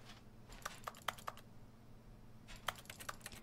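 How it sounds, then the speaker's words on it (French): Keyboard keys clicking in two short bursts, a handful of crisp presses each, over a steady low hum while playing The Stanley Parable, with no talking. "Ça fait encore des touches de clavier quand on appuie."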